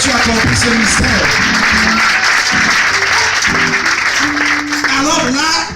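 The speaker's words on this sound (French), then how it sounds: "Acclame parce que tu as compris ce mystère." Congregation at a church sermon in Gabon applauding and cheering, a dense sustained wash of claps and voices filling the room, with shouts and a sung or called-out voice rising near the end.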